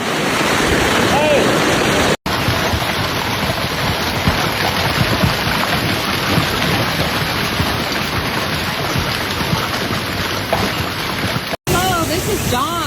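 Ping-pong-ball-sized hail pounding homes and cars in a storm in Fort Smith, Arkansas: a dense, loud, continuous roar of impacts with wind buffeting the microphone, broken by two brief dropouts.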